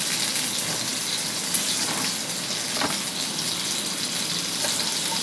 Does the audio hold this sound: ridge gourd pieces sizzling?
yes